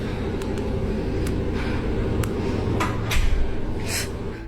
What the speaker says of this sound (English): the heavy door to Room 112 slowly closes by itself